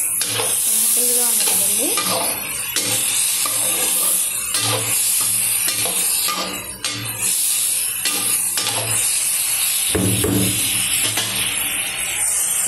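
Mixed vegetables, with tomatoes added, fry in a pan with a loud continuous sizzle, broken by repeated scrapes and stirring knocks of a utensil; someone speaks briefly over the cooking.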